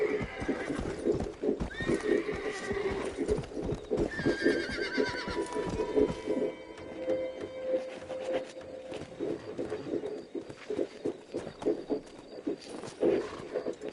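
A horse's hooves clip-clop in quick, close steps while it gives a loud whinny and snorts, the hoofbeats easing into slower scattered steps afterward.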